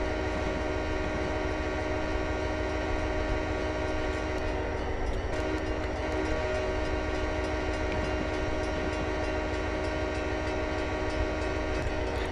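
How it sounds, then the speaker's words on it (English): An Amtrak California Zephyr train in the Railworks simulator rumbles steadily with a continuous engine drone and rolling-stock noise, plus a sustained horn-like tone throughout. "Amtrak. At least I got the California Zephyr right there."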